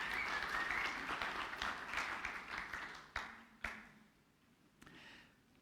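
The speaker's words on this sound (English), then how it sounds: "let's give our worship team a big hand clap" Audience clapping for a church worship team during a service, a broad patter that fades out over several seconds with a few louder single claps near the end, no voices over it.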